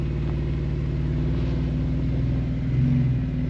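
A car pulling forward back onto a road during a vehicle recovery, its engine a steady low rumble throughout that swells slightly near the end.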